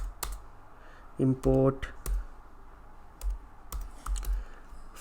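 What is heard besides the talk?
typing code on a computer keyboard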